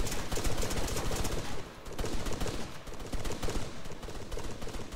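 Rapid bursts of automatic gunfire in the video game Altis Life rattle almost continuously, loud and close, with a brief pause partway through.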